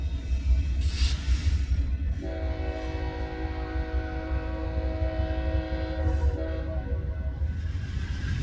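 A BNSF freight train rumbles past through crossings in the distance, its horn sounding long sustained blasts over the steady rolling noise of the cars.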